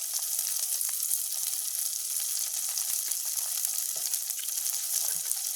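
Garlic, green chillies and mustard seeds fry in hot oil with a steady, close hiss and fine crackling that runs on without a break.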